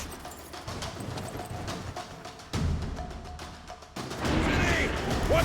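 Horses gallop in The Witcher 3 during the Battle of Kaer Morhen, rapid clip-clopping hooves running throughout amid battle noise, with a heavy crash partway and louder commotion near the end.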